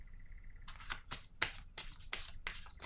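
Tarot or oracle cards are drawn and handled in a quick series of crisp, close papery flicks and slides, about six distinct snaps with brief gaps between them, quiet and alone with no voice.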